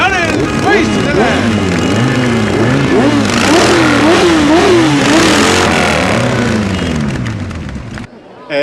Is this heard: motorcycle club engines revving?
yes